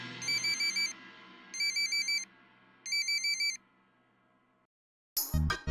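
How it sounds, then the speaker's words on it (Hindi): A phone ringtone sounds clearly in three evenly spaced bursts of warbling electronic tones over a quiet room hum, then falls silent before a sudden loud noise at the end. "आपका फोन बज रहा है।"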